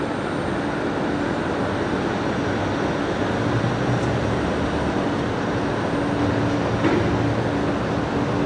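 A Link Airways Saab turboprop arriving at Brisbane Airport at night produces a steady, broad engine roar that holds constant throughout, loud and continuous with no talk.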